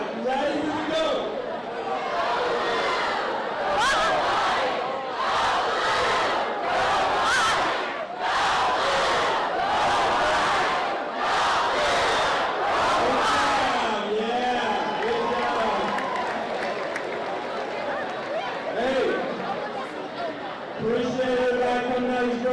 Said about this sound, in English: This side's gonna say, go blue, this side's go white. We're gonna do it 4 times, you gotta be loud.